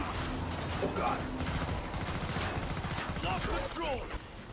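Rapid gunfire from weapons in the video game Killing Floor 2, dense bursts of shots filling the whole span with game effects, while players talk over it.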